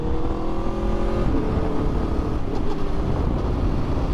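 Aprilia RSV4 1100 Factory motorcycle engine under way, a steady, loud drone with sustained low harmonics and a slight pitch shift partway through, mixed with road and wind rush and no talking.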